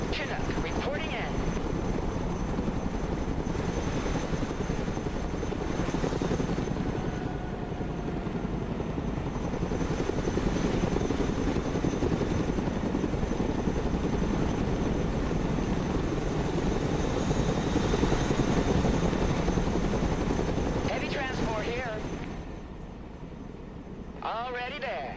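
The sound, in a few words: Chinook helicopter flying in Broken Arrow video game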